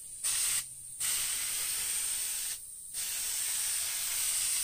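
A Harbor Freight paint spray gun hisses in three bursts, a short one, a long one and a final one that runs to the end, each separated by a brief pause.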